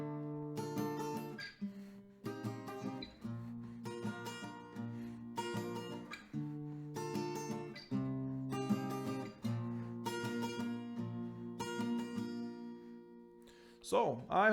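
An acoustic guitar plays the chorus of a song at standard tempo, favouring the higher strings, with clear strummed chords ringing out in a steady rhythm and a brief scraping sound at the end.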